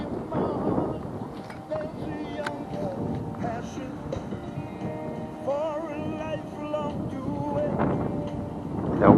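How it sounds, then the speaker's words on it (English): Strong, relentless wind sweeps across a canal at White Acres during a fishing session. Steady, heavy rushing and buffeting hits the microphone throughout, and a muffled voice sounds faintly underneath. "The wind is, wow, it's relentless."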